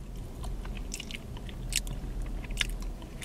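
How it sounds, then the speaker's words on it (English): Crunchy chewing of a McDonald's dessert, likely the new blueberry muffin, with repeated close bites and crackly mastication spread over a few seconds, no talking. "It just got a crunch to it."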